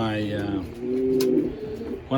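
Pigeon cooing softly inside a loft, a low rolling coo close by while someone talks over it.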